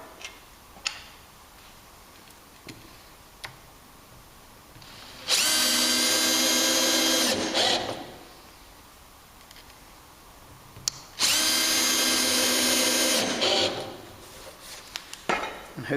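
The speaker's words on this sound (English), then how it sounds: "We can now screw the hinge into the door, again using our cordless drill" A cordless drill with its clutch set drives screws through a hinge into a wooden door in two loud whirring bursts of about two seconds each, separated by quiet stretches with small clicks and taps.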